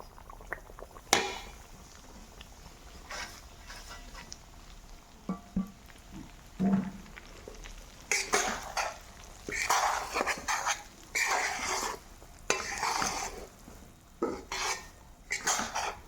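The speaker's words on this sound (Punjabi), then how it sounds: "ਹੁਣ ਆਪਾਂ ਇਹਦੇ ਵਿੱਚ ਸੂਜੀ ਜਿਹੜੀ ਆ ਉਹ ਪਾ ਦਾਂਗੇ" Semolina goes into a hot pan for laddu and is stirred, heard as intermittent metallic scrapes and clinks of a utensil against the pan in quiet bursts, with a dog barking briefly in the background.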